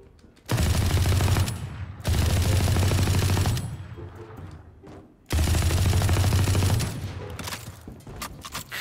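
Gunfire in Valorant, the tactical shooter, rattles out in three loud sustained automatic bursts separated by short pauses, close and dominant with no talking over it.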